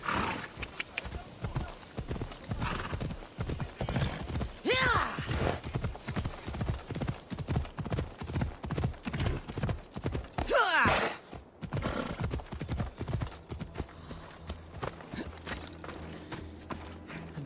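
Horse hooves clip-clopping at a steady, rapid gallop in Assassin's Creed Odyssey, close and loud, with a brief whinny and a voice talking over part of the ride.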